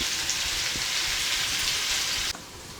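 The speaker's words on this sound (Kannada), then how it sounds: "ಇದು ಮೀಡಿಯಮ್ ಉರಿಯಲ್ಲಿ 1-2 ನಿಮಿಷ ಫ್ರೈ ಆದರೆ ಸಾಕು." Masala gravy for a dhaba-style paneer masala fries in oil over medium heat, a dense, even sizzle like light rain that suddenly drops to a quieter hiss near the end.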